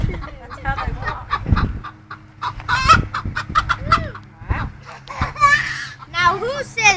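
A chicken clucking in agitated bursts while flapping about, with sharp, irregular calls and squawks, close and loud, separated by brief pauses.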